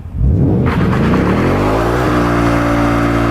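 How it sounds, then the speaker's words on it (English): Ford Mustang Mach 1 V8 from 2022 revving hard during a line lock burnout, a loud continuous engine roar climbing in pitch and holding high, close up with no talking. "The Ford Mustang has something called line lock, which holds the front brakes on and keeps the back brakes off, so you can do this."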